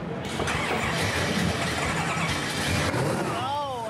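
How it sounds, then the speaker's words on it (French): A newly rebuilt engine in a restored truck cranks and fires, then runs at a steady, loud idle close by, with a rising rev near the end and voices talking over it. "Il n'y a rien de plus agréable que de démarrer un moteur neuf."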